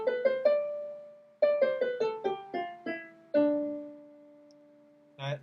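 A D Dorian mode scale played note by note on a piano, crisp struck tones rising and falling in two quick runs with a sustained note between them, close and quiet, ending with a brief voice.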